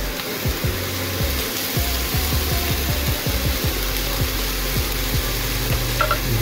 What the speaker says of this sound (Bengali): পেঁয়াজটা হালকা ভাজা হলে এর মধ্যে দিয়ে দেবো আদা রসুন,